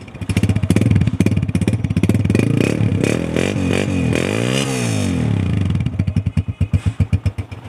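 A Honda 125 motorcycle engine runs close by, loud and rhythmic, revving up and settling back to a steady thumping idle.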